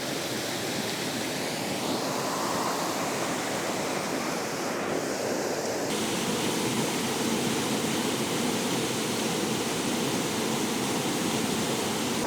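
Broad steady roar of an autumn waterfall, a dense continuous rush of falling water close by, unbroken and without voices.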